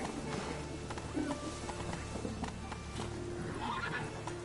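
A horse neighs and whinnies amid hoof clip-clops in the Witcher 3: Wild Hunt video game, heard fairly close over a steady game soundscape.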